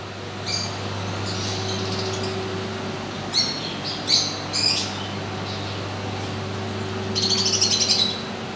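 Small pet birds such as lovebirds and budgerigars chirp in a pet shop, with scattered short tweets and a brighter burst of rapid twittering near the end over a steady low hum.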